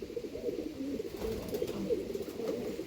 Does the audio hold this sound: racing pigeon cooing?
yes